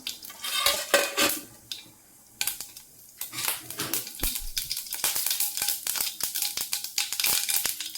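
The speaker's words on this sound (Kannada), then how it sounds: "ನೋಡಿ ಈಗ ಸಾಸಿವೆ ಜೀರಿಗೆ ಹಾಕ್ತಿದ್ದೀನಿ" Mustard seeds and cumin hitting hot oil in a home kitchen pan, giving crackling, spitting pops and clicks with utensil clinks and stirring scrapes, fairly close and steady after a brief quiet pause.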